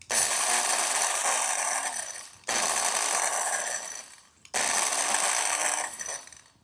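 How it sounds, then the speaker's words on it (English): A push-to-grind electric spice grinder pulverising whole spices, three loud whirring bursts of about two seconds each, separated by brief pauses, close and harsh. "So for this particular model, you have to push to grind. So I'm gonna do that and it's gonna get real noisy."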